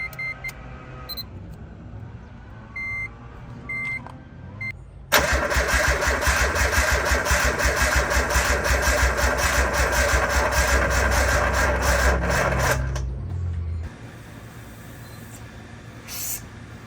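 A Nissan R33 fitted with a swapped RB25DET NEO engine is cranked after a few electronic beeps, catches with a loud burst, then runs at a steady, rough idle close by for several seconds before shutting down.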